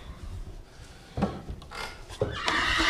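A horse whinnies up close in a couple of short, shrill bursts, followed by a rising, breathy neigh at the end over quiet rustling.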